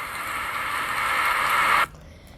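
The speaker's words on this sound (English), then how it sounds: "It's the sound of a blizzard." Blizzard recording: a steady, dense roar of wind-driven hiss that holds constant, then cuts off abruptly near the end, leaving faint background noise.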